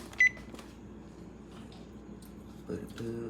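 An oven control panel beeps while the preheat is set to 350 degrees Fahrenheit in a home kitchen, a short high beep near the start and a few tonal beeps near the end, faint against quiet room sound.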